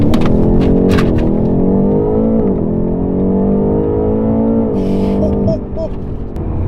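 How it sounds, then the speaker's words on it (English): A BMW M8 with a 4.4 liter V8 launches hard from a standstill, its engine rising in pitch through quick gear changes with a loud, continuous roar heard from inside the car, easing off at the end. "Foot down on brake, mash the throttle."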